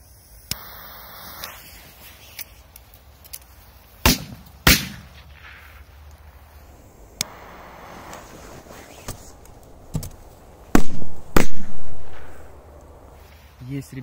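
Outdoors at night, several sharp firecracker bangs go off at intervals, ending with a closely spaced pair of louder, booming explosions from a double-blast firecracker.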